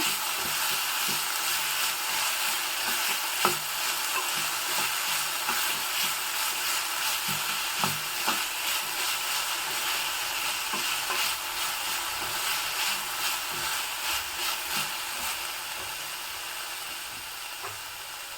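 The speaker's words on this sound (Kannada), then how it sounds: "ಬಸಳೆ ಸೊಪ್ಪನ್ನ ಎಣ್ಣೆಯಲ್ಲಿ ಹಾಕಿ ಹಿಡಿತಾ ಇದ್ರೆ ತುಂಬ ಒಳ್ಳೆಯ ಪರಿಮಳ ಬರುತ್ತೆ" Malabar spinach (basale) leaves fry in hot oil with a constant bright hiss, close and steady, while occasional soft clicks and scrapes of stirring break through; no one speaks.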